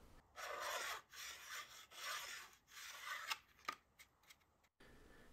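A small 4-inch hand file rasps at carbon channels on a lightweight LW-PLA model glider, close up and quiet, in several back-and-forth strokes followed by short scratchy bursts.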